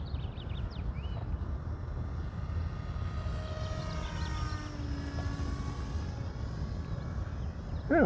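A ZOHD Talon 250G sub-250-gram FPV plane flies overhead, its electric motor a faint, high whine that rises and falls over a constant low wind rumble, with nothing else standing out.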